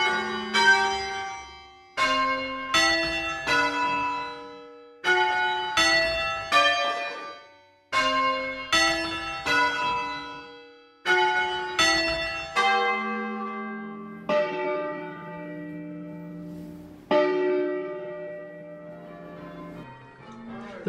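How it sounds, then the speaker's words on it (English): Virtual carillon bells ring tunes in a marketplace during a town festival, with clear melodic bell strikes ringing out in phrases, each note decaying into a resonant hum, loud and alone without talk. "All of these tunes were played on the virtual carillon in the marketplace"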